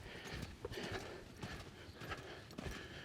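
A horse canters through the center of a riding arena, its hooves striking in a steady repeating three-beat rhythm at close range, with no speech over it.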